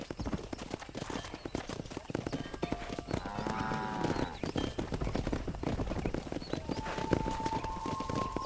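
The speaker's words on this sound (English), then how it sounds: "Come on, you dumb heifers." Cattle being driven along in the video game Red Dead Redemption, with a constant clatter of horse hooves, an occasional whinny and lowing, and a voice calling over the herd from time to time.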